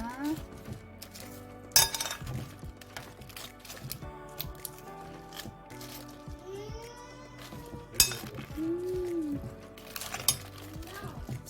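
Lettuce salad with almonds and walnuts being tossed in a bowl, giving sparse clinks and taps of utensils on the dish, quiet and close, while a person talks over it.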